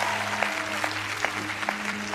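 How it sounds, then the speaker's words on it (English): Brief applause from a magic show audience as a volunteer is invited on stage, steady clapping with a few sharper claps standing out over a low constant hum. "everyone gives you a thunderous round of applause"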